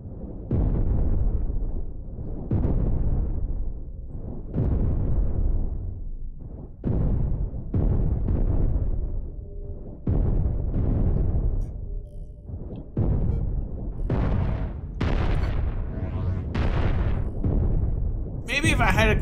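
Spaceship cannons fire in the space combat game Cosmoteer, a series of heavy booming blasts about every second or two, each decaying quickly, with a voice talking between and over some of the shots.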